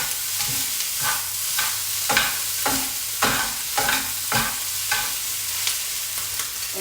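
Rice noodles for Vietnamese hu tieu xao stirred and tossed in a hot frying pan, a steady sizzle under repeated scraping, clattering strokes of the utensil at a close, fairly even rhythm, with no talking.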